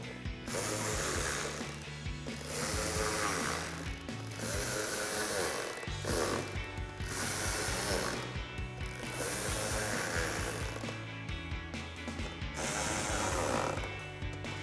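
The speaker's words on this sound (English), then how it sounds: "Now we'll tighten these down with our 7mm socket." A hand ratchet with a 7mm socket tightens fog light bolts on a Jeep Gladiator JT, clicking in steady bursts of rapid pawl ticks, close and continuous over about fifteen seconds.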